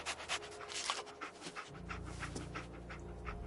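Dogmeat, the dog companion in the video game Fallout 4, pants rapidly and steadily up close, a rhythmic breathy huffing that grows louder and denser partway through, with no talking.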